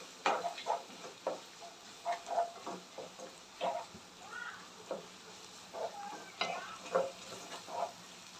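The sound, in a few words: onion and garlic sautéing in a pan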